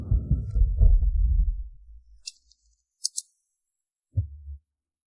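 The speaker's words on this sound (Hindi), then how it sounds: "सेक्रेटरी, ये आपके दिल की धड़कन बहुत तेज है।" A fast, racing heartbeat is heard as deep, muffled low thuds that fade out over about two seconds. Faint high clicks follow, then one more short low throb.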